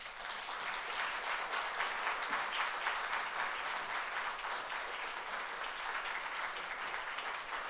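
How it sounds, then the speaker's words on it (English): Seminar audience applauding near the close of a session, a steady, even wash of many hands clapping at moderate distance, continuous for several seconds and fairly quiet overall. "just give them applause once more."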